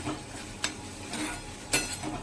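Turmeric, asafoetida and salt being stirred in a pan of hot oil for an okra dish, a soft sizzle under two brief scraping clinks of a spoon, quiet and close with no voices.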